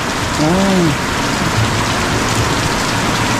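Steady rain falls outdoors as a constant loud hiss, with a brief faint tonal sound near the start.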